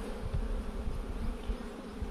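Honeybees around an open beehive on a mild day hum in a dense, continuous buzz, close and steady, with no talking.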